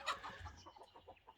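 A backyard hen clucks close by, a few quick sharp clucks at the start followed by softer, rapid chattering calls, brief and fairly faint.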